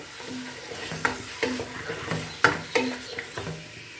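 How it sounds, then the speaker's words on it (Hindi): Beef pieces stirred and fried in a pan for beef masala, with a steady sizzle under repeated close scraping strokes of a spoon against the pan, no talking. "अब इसमें हम गोश्त ऐड कर देंगे और इसको हमें अच्छी तरह से मिक्स कर लेंगे।"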